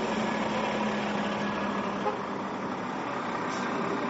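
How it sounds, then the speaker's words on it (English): A convoy of buses travels toward the capital at a late summer dawn, a steady broadband road and engine rumble holding level throughout with a low hum underneath. "a more modern convoy of buses is travelling toward the capital through a late summer dawn"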